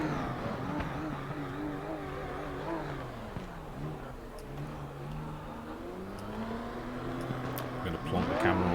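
Race cars idle and rev while lining up on the grid before the first race at Oschersleben in a racing video game. Engines hum steadily at moderate volume with rising and falling pitch, and a voice talks over them.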